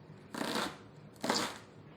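A knife dices a red onion on a cutting board, heard as two short bursts of rapid, close chopping separated by a brief pause.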